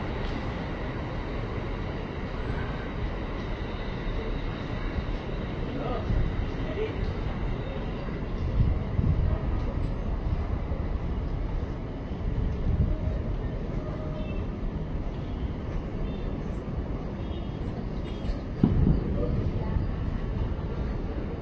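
A 12-car JR 205-series KRL commuter electric train rolls steadily past Depok Baru station in Indonesia, a continuous loud rumble and rail roar lasting throughout, with people talking over it.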